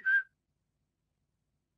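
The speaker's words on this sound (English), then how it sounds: "This is a whistle sound." A single short, clear whistle note sounds once and quickly stops, leaving silence after it.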